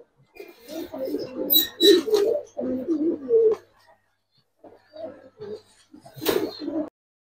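Pigeons of Giribaz, silver and khaki breeds coo close by among sellers' cages, in rolling throaty bursts with short pauses and a final burst near the end.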